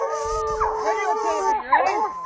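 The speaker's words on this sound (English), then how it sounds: "Good dogs! Good girl, Nala!" Several hunting hounds in Wisconsin howl together in long, wavering, overlapping cries, close and loud, with a few sharper yips mixed in and no pause across the stretch.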